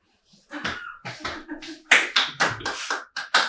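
Students in a math class clap in a quick series of separate, close, sharp bursts with short gaps between them, irregular rather than a steady round of applause.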